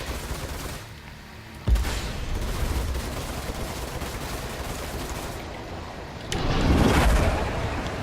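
Ship weapons fire in bursts during space combat in a 300i spaceship video game, with a sharp loud shot near the start and a heavier rumbling volley toward the end over a steady engine drone.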